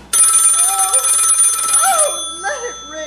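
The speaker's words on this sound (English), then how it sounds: "Oh, let it ring. Let it go on ringing." An old telephone bell ringing loudly and continuously for about two seconds, then stopping as a voice speaks over and after it.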